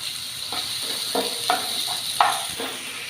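Onion, tomato and curry leaves fry in a pan with a steady sizzling hiss, broken by a few light clinks and stirring scrapes of a utensil; no talking.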